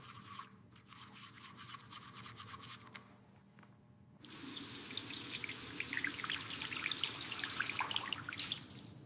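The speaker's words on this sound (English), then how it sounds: "She washes her face with warm water." Warm water runs steadily from a tap into a bathroom sink for face washing, a continuous close hiss and splash that starts partway through after a quieter stretch of softer rubbing and clinking.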